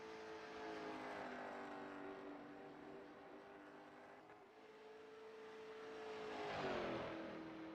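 Race cars run warm-up laps at Rockingham during a grassroots late-model stock car event, a distant engine drone that swells and fades as cars pass, with a sharper rising pass near the end.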